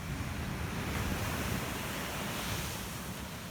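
Ocean waves rolling onto a quiet Panama beach at sunrise, a continuous broadband wash of surf with light wind noise and no voices.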